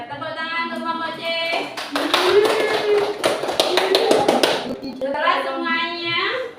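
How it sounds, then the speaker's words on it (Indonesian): Students in a primary classroom clap for a presenting group, a burst of scattered, sharp handclaps lasting a couple of seconds, framed by a teacher speaking before and after. "tepuk tangan untuk kelompok C"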